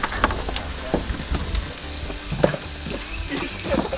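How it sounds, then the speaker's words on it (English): Onions browning in a pan over a camp cooking setup sizzle and crackle steadily, with scattered pops and stirring scrapes close by and no talk. "We're browning onions."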